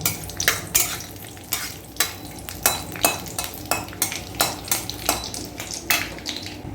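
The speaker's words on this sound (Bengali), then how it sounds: "এবার মা তেজপাতা আর গোটা গরম মশলা দিয়ে দিল।" Bay leaves and whole spices fry in ghee in a wok while a spatula scrapes in brisk, regular strokes, with a soft sizzle between the close, sharp scrapes.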